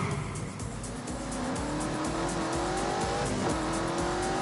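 A car driven hard on a track roars past, the engine note climbing steadily as it accelerates, with tyre noise and a continuous loud, close rumble and no talk.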